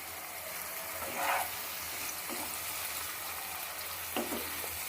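Tomatoes soften in a hot pan for a small-potato aloo kosha, a steady sizzle of frying running throughout with a couple of brief scraping stirs of the spatula standing out.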